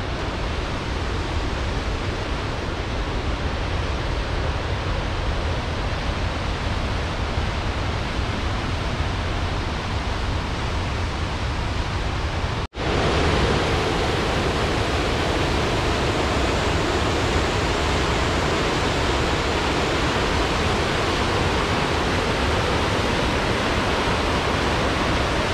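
Glacier-fed waterfall rushing at Grand Teton National Park, a loud, dense, unbroken roar of falling water close by, with a brief dropout midway and no voices.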